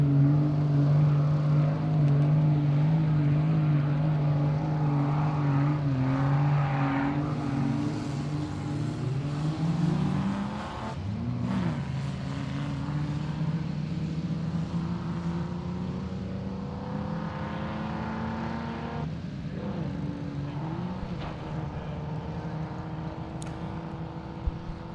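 Off-road 4x4 race vehicle in an Every Man Challenge qualifying event, engine droning loudly and steadily while climbing an obstacle, with pitch shifts as it revs and strains over about twenty-five seconds.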